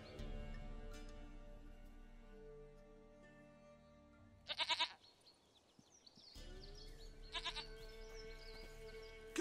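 A goat bleats twice in The Witcher 3 video game, two short, quavering cries a couple of seconds apart, standing out over a quiet musical and ambient game background with no talking.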